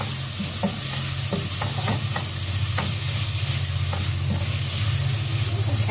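Onion in a spoonful of oil frying in a pan with a steady close sizzle and hiss, broken by scattered scraping stirs, over a constant low background hum; a voice speaks a single brief word.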